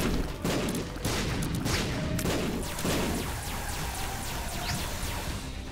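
Explosions in Isaac: Repentance, a steady clatter of popping blasts and crackling bursts throughout, fairly quiet and with no talking.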